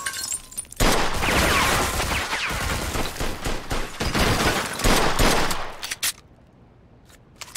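Rapid bursts of gunfire and shattering impacts ring out in a Mafia II shootout, a dense fusillade lasting about six seconds before cutting off into near silence.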